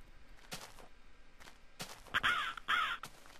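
A bird from the Mo' Creatures mod calls in Minecraft: a couple of faint chirps first, then two loud, harsh caw-like calls close together near the end.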